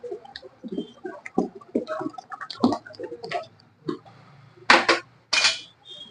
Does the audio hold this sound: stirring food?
yes